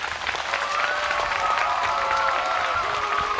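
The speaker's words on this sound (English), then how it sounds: "Let's have a round of applause for the choir." A crowd at a school graduation claps steadily and enthusiastically for a choir, a dense wash of applause sustained for a few seconds.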